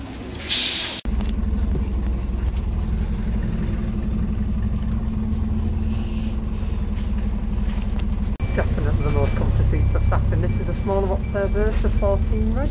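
Engine of bus 18164 idling at Mansfield bus station: a steady low mid-pitched hum running continuously, with someone talking over it throughout and a brief air-brake-like hiss near the start.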